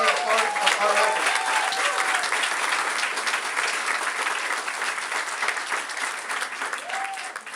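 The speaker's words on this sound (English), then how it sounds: "Let's give them a round of applause for being part of our effort." A rally crowd claps loudly and continuously in a large gathering, thick applause holding steady with a brief voice near the start and a faint call near the end.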